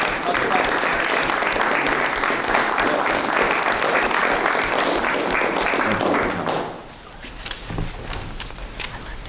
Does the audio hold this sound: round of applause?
yes